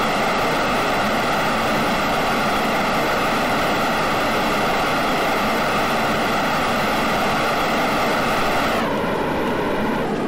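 Rocket engines and solid boosters roar at full throttle in Kerbal Space Program, a steady loud dense engine rumble running continuously, shifting slightly in tone near the end as some engines cut out.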